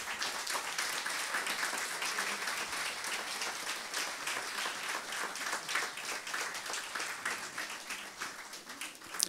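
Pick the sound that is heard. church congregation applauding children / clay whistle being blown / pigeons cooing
church congregation applauding children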